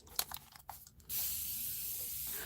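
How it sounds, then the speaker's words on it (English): Water is misted from a spray bottle onto a painting: a few faint clicks and rustles, then a sudden, steady hiss of fine spray lasting over a second, close and alone. "Spray some water."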